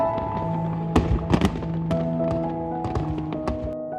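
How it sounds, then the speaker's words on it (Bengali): Fireworks burst at midnight over trees in Rotterdam on New Year's Eve. Several sharp bangs and crackles come in uneven succession, some close together, over a humming background. "ওপরে এরমভাবে আতশবাজি ফুটতে শুরু করেছে।"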